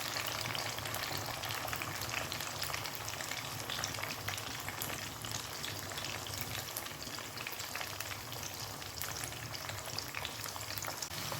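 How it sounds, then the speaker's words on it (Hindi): Onions fry in a pan for palak gosht, giving a dense, continuous crackling sizzle that stays fairly even throughout, close up with no one speaking. "प्याज को हल्का सा फ्राई करना, ज़्यादा कलर नहीं देना।"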